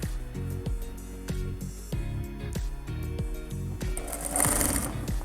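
A sewing machine stitches a bedsheet ruffle up close in a loud, rapid mechanical chatter, running in short repeated bursts with brief pauses between them.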